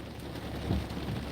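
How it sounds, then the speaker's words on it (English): Heavy rain drums steadily on a car during a night drive through a thunderstorm with flooded roads, a low rumble of thunder swelling briefly in the middle of the constant downpour. "this rain, this thunder, no joke"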